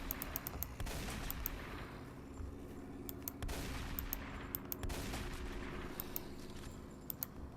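Gunfire in the video game The Slaughtering Grounds: sharp, irregular shots crack out in scattered bursts over a constant low game rumble, fairly quiet overall with no talking.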